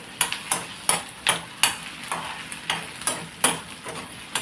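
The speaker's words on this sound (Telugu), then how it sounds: "మరి సిమ్లో కాకుండా మీడియంలో పెట్టి వేయించేస్తున్నాను తొందరగా అయిపోవడానికి" Cluster beans masala frying in oil over medium heat, with a spatula scraping and stirring the pan in quick, uneven strokes above a soft sizzle.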